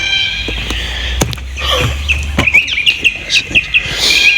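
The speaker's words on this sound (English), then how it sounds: "Hey, red-tailed cockatoo." Red-tailed cockatoo calling outdoors near Bourke, New South Wales, a series of repeated short high chirping notes at moderate distance over wind and low rumble.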